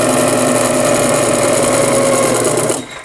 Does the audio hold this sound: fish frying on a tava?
no